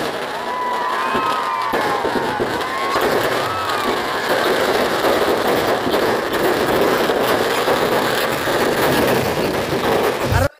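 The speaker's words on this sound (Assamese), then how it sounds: "লাখ লাখ টকাৰ বোমা মাৰি কিনে এতিয়া জ্বলাব লাগে আমাৰ ৰাৱণটো" Firecrackers crackle and pop in a dense, continuous wash as a Ravan effigy burns at the Tihu Ravan Dahan Dussehra celebration of 2023. A large crowd roars steadily throughout.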